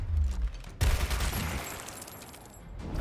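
Gunfire in the video game Gears Tactics, a sudden loud burst of rapid shots that rattles on and fades, following a brief low rumble.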